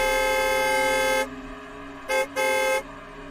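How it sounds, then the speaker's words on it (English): A car horn blares in one long, loud honk, followed by two shorter blasts close by. "he was woken up by the sound of a car horn coming from the exact street that Bruce could see from his window."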